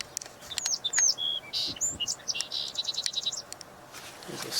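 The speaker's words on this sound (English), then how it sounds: "There's a song sparrow that we just heard." Bright birdsong of a song sparrow, a run of quick chirps and trills with rapid repeated notes, fairly close and clear over a soft background of insect and outdoor hum.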